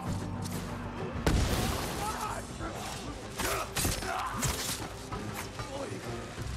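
Explosions and crashing impacts go off in the samurai action game Ghost of Tsushima, with sharp bursts scattered through loud combat noise and a big boom early on.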